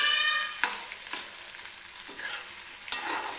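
Egg bhurji cooking in a pan while being stirred, a few distinct scraping strokes of the spatula over a soft continuous sizzle, close and fairly quiet, no voices.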